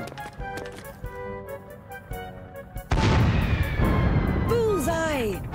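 In the Dragon Quest Heroes game, a siege weapon fires at monsters crossing a bridge. A loud boom erupts partway through over game sounds and music, followed by whooshing tones.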